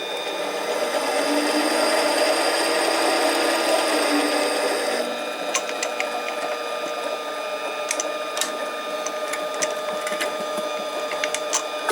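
A 7x10 Harbor Freight mini lathe spins a 304 stainless bolt supported on a center, making a steady whirring motor hum for about five seconds before it winds down into lighter clicks and rattles.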